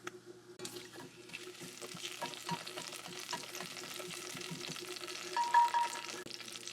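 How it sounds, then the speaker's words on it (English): Bay leaves dropped into smoking-hot oil for a traditional Odia mutton kasa curry, giving a steady close sizzle and crackle with faint stirring clinks and no talk, rising briefly louder near the end. "Once the oil is heated up, add bay leaves."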